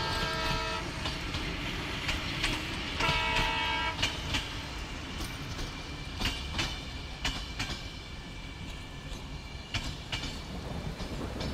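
A train rolls past with rhythmic clickety-clack of wheels on rails and a horn sounding, loud and close.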